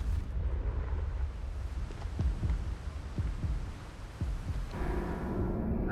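A Confringo blasting curse in Hogwarts Legacy lands as a series of deep, booming thuds with a low rumbling tail, ending in a brighter crackling burst near the close.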